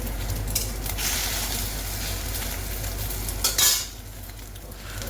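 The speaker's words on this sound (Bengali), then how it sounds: "অমলেটগুলো করে নিই।" Omelettes frying in a hot pan, with a steady close sizzle and the scrape and clink of a utensil stirring against the pan, plus a brief louder clatter partway through.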